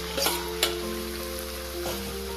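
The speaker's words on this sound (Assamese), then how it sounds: "এয়া মই এতিয়া 2 মিনিটমান মাংসখিনি ফ্ৰাই কৰি থাকিম" Marinated chicken pieces fry in a pan with a soft, steady sizzle, a couple of light clicks from stirring near the start, and a faint constant hum underneath.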